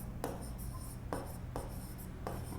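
Chalk or marker writing on a board during a maths lecture on sets, repeated short scratchy strokes in quick bursts over a low room hum, close and steady.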